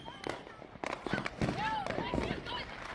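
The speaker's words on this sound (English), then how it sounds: "Lighting and fireworks will always look cool." Fireworks going off with sharp crackling bursts and rising whistles over about three seconds, mixed under voices talking.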